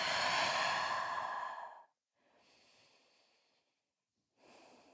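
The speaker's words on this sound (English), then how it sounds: "Take a releasing breath here. Inhale through your nose. Exhale out the mouth." A slow, deliberate exhale through the mouth during a prenatal yoga session in downward facing dog, a loud breathy release followed by two softer breaths after a brief pause, with no talking.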